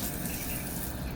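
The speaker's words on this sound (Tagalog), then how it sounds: "Ang aking apo nagdidilig. Naglilinis pala ng sahig." Water runs steadily from a tap or hose onto a floor being cleaned and scrubbed, a continuous close wash of rushing, splashing water with no voices.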